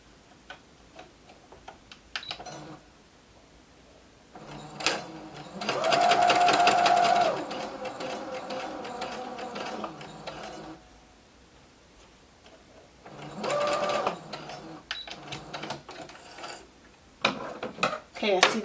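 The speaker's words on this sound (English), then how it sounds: "before I sew my fabric, I'm just taking a piece of scrap fabric just to test it out first" A sewing machine runs in short rhythmic bursts, stitching scrap knit fabric with rapid mechanical ticking, then pauses and starts again, close up with quiet speech in the gaps.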